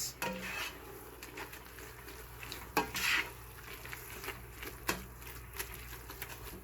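Spoon stirring ginger into an Ital pot with coconut milk, soft scraping and repeated clinks against the pot at an irregular pace, with a few sharper knocks, close and fairly quiet.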